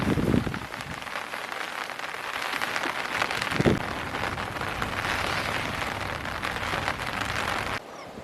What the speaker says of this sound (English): get out of this rain